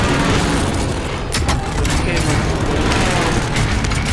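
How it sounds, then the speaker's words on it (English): Precision airstrike explosions in a video game roll on as dense, continuous booming and crackling blasts, loud and overlapping throughout, with a voice speaking underneath. "Allied precision airstrike incoming."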